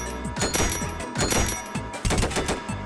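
Video game automatic weapon firing rapid bursts, a steady close chatter of punchy shots in several quick strings with short breaks between them, no talking.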